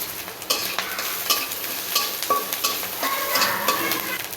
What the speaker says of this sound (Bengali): এই রসুন মরিচ পেঁয়াজগুলো ভাজার জন্য এখন কড়াই আমি কিছু অল্প তেল দিয়ে দিব